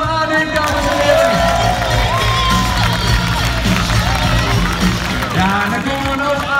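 A loud, close crowd cheers and shouts for a player of the Dutch football club WVV34 at a celebration on a parade float. Excited voices and cheering overlap continuously, with some shouting from the people nearby.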